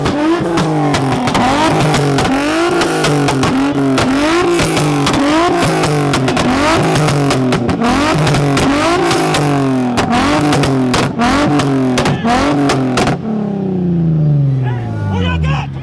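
A Camaro and a Z car take turns bouncing off the rev limiter on two-step at a Houston car meet, loud stuttering engine bursts in a long battle, with a crowd murmuring underneath before the engines wind down.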